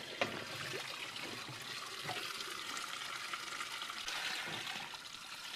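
Water runs from a hose by gravity into a laundry tub at an off-grid desert site, a steady soft splashing trickle that stays faint and continuous throughout with no voices.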